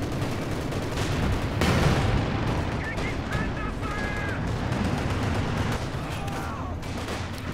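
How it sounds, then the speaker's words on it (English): A close air support strafe rakes the ground in a Company of Heroes 2 four-versus-four match, with loud rattling gunfire and heavy artillery-like thumps layered through steady battle noise under intermittent commentary. "we've got one close air support strafe for Scotch"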